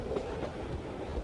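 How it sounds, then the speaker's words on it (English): A train rolls on its rails as it slows toward Dover station, a close, steady rumble of wheels and carriage noise over a short stretch. "The train slowed down."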